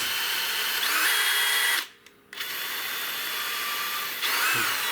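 A power drill whines loudly and steadily, cuts out briefly for a moment, then starts up again and keeps running.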